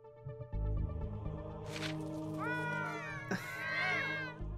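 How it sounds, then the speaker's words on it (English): Cats meow in the video game Gravity Rush, several bright wavering cries over a steady musical drone, one short call followed by a longer overlapping meowing. "God damn it, cats."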